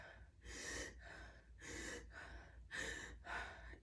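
Shallow, rapid chest breathing imitating someone short of breath with lung disease: three quick, breathy gasping cycles, close and soft, each an audible rasping inhale and exhale, with no talk.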